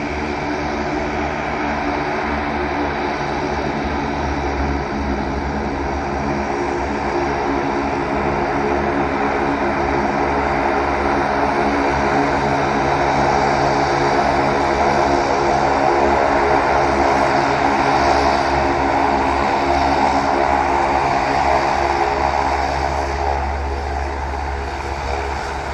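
A propeller aircraft landing at Sydney Airport drones steadily and loudly for the whole stretch, its engine tone swelling slightly toward the end, with no voices.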